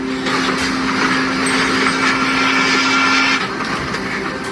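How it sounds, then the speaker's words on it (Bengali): A train draws near along the tracks at a migrant stop on the route through Mexico, a loud broad rumble with a steady low hum and high grinding tones that holds for several seconds and then eases slightly. "একটি ট্রেন আসছে"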